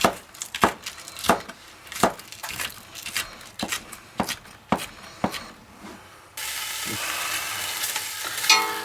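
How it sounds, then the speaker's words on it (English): A series of sharp knife taps on a board gives way to a steady, loud hiss as a pound of bacon, cut into half-inch strips, begins frying in a large pan over medium heat. "To a large pan over medium heat, we're going to cook 1 pound of bacon"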